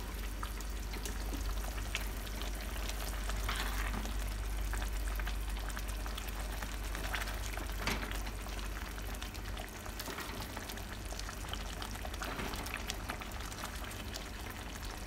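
Eggplant and eggs frying in sambal sauce over a low flame, a steady close-up sizzle and bubbling that runs unbroken the whole time with no voices.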